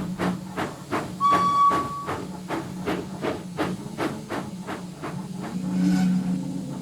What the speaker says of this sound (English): arrived later with Marcus, who puffed into the berth next to him.